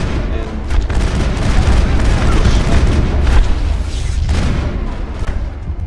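Close-range melee strikes in the video game Mass Effect land as dull booming thumps over a dense, steady wash of game combat noise, loud and continuous with no clear gaps.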